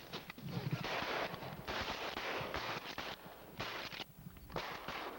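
Several loud shotgun blasts crack in quick succession during a goose hunt, overlapping with outdoor noise, the reports close and sharp.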